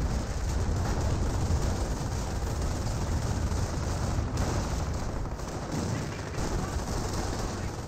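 An artillery barrage in Company of Heroes, a dense continuous roar of gunfire and explosions rumbling loudly throughout, with a voice talking faintly beneath the battle noise.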